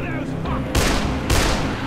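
Gunfire in the zombie game Dead Island: two loud broadband blasts, each sustained for about half a second, over constant game background noise.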